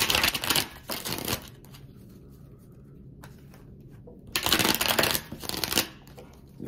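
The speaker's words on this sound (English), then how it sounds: "I'll give you one more good shuffle." A deck of tarot cards is shuffled up close in two loud riffling bursts, with a quiet pause of soft handling between them.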